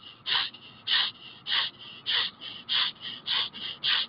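Bhastrika breathing with shoulder shrugs: about ten quick, forceful nasal inhales in an even rhythm, close and clear, with no talking.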